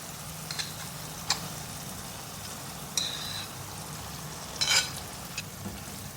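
Brain masala fries gently in a pan with bread added, a steady low sizzle running throughout, broken by a few brief clicks and scrapes of a spoon.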